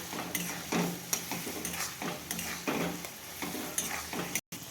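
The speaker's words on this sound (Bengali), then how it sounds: "এরপর আমি পটলগুলো দিয়ে নাড়াচাড়া করে সামান্য জল দেবো" Pointed gourd frying in spice masala, a steady close sizzle with rhythmic scraping strokes of a spoon stirring through the pan, briefly cutting out near the end.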